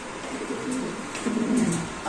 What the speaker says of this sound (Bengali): একজোড়া চমৎকার একটা পেয়ার সাদা মুন্ডিয়ান কবুতর